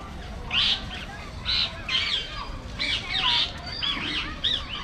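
Several short bird calls ring out in separate bursts over a steady low background rumble at a zoo in Riyadh, moderately close and clear.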